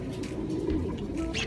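Pigeons in a breeding loft, including breeder hens, give soft repeated coos with a few chirps, close by and continuous, with no voices.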